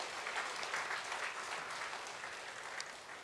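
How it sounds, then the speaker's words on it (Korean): A church congregation applauds its choir after a New Year service, a broad, even wash of many hands clapping at once, steady and fairly distant, holding constant for a few seconds. "귀한 찬양 어제까지 수고했으니까 한 박수 보내주시죠"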